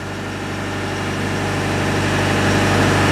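A Bobcat Toolcat utility vehicle idles while warming up, a steady loud diesel rumble up close with a faint rise in revs toward the end.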